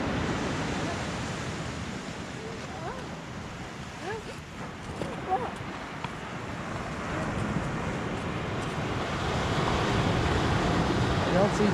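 Ocean surf washes onto a beach in a continuous broad roar with wind buffeting the microphone, the wash rising slightly toward the end.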